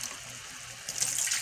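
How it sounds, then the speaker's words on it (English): Tap water runs steadily into a cooking pot while making bell pepper spaghetti, a continuous close splashing rush that grows louder and brighter toward the end. "So I'm just gonna add in some more water."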